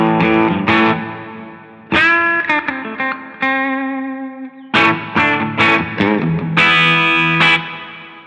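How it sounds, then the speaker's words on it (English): A Joyo Zombie II electric guitar amp with the gain raised to the edge of breakup: chords and licks slightly gritty with a touch of breakup, played in loud strummed bursts and sustained notes. "Now if we pump up the gain just a little bit, you can start hearing like edge of breakup."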